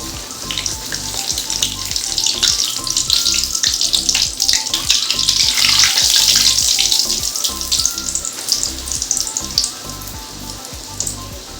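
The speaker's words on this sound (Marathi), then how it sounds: "तर तेल गरम झालंय. तर आपण आता इथं पुरी तळून घेऊ." Puris deep-frying in hot oil for a festive Gudi Padwa thali, a loud close sizzle with continuous crackling bubbling and small spattering bursts, swelling midway and carrying on without any talk.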